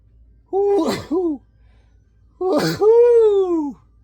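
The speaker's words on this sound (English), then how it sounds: "sneeze attack" A person has a sneezing fit: two loud, close sneezes about two seconds apart, each with a sharp breathy burst and a drawn-out voiced tail.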